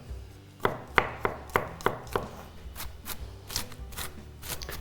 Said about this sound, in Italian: E ora si trita tutto abbastanza finemente.